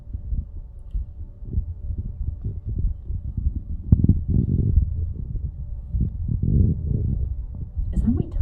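Low stomach rumbling picked up through a stethoscope, irregular gurgles and churning sounds rising and falling close to the microphone, with a stronger burst about halfway through and no talking.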